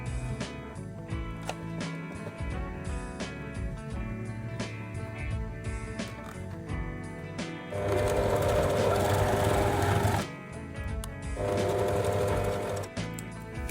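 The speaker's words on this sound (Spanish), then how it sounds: "podemos hacerle todo un pespunte alrededor para acentuar esa costura" A sewing machine runs a topstitch around a shirt collar, its rapid mechanical chatter playing in bursts that speed up into two loud, sustained runs near the end, with no talking.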